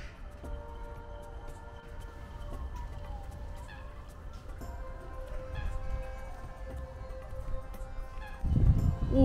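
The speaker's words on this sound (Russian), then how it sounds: "Уточки." Ducks quacking at a park in Warsaw, faint and intermittent honking calls scattered over steady outdoor rumble and wind, with a louder burst of noise near the end.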